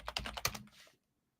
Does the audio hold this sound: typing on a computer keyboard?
yes